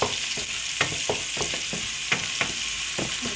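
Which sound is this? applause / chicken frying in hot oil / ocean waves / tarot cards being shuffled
chicken frying in hot oil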